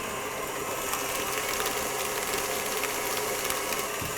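A stand mixer whips egg whites into meringue for a Sacher cake, a steady, continuous motor whir with a faint rhythmic rattle that runs unbroken and alone at moderate volume.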